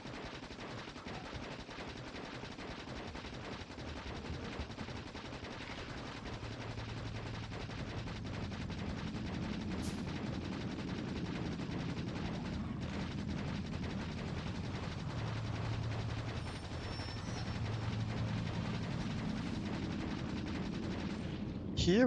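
Rapid bursts of gunfire from basic ammo in the Factorio video game, a dense crackling rattle running almost the whole time under a low rumbling game background, fairly steady with slight swells.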